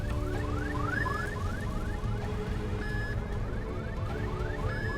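A looping electronic security alarm from the video game Escape from Whisper, repeating rising tonal sweeps over a steady droning background, loud and continuous with no talk.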